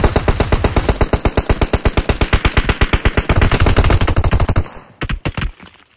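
Rapid automatic gunfire in the shooter game PUBG Mobile, a loud, close burst of evenly spaced shots that runs for several seconds, then breaks into a few scattered final shots.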